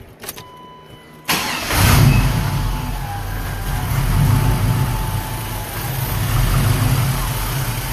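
An LS1 V8 in a Cutlass cranks over briefly, then fires and settles into a loud, steady, slightly uneven idle with a deep rumble, close to the car.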